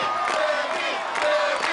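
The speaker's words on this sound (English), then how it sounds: "This is new, the crowd chanting Flippy." A large arena crowd at the American Ninja Warrior Los Angeles qualifiers chants a competitor's nickname, Flippy, in a loud, sustained, rhythmic roar that fills the space.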